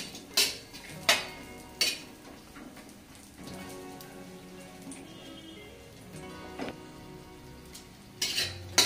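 Poha being stirred and roasted in a pan with a little oil, fried ingredients already in, giving a steady close scraping rattle with a few sharp metallic knocks of the spoon against the pan near the start and end, no talking.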